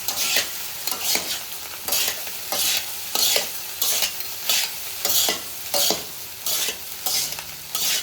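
Restaurant-style chicken fried rice gets tossed and stirred in a hot pan, about a dozen rhythmic scraping strokes roughly every half second over a steady sizzle, close and loud.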